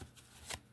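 A deck of cards is shuffled gently by hand, not riffled, giving two soft brushing swishes in under a second, quiet and close.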